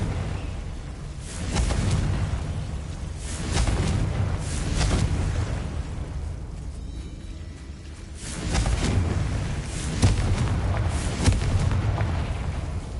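Confringo blast spells cast in Hogwarts Legacy on PS5, booming explosive bursts that recur several times over a low rumbling background, loud and close with no talk.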